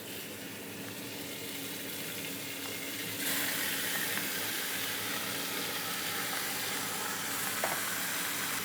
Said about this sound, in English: That means that we can now add our beef chuck.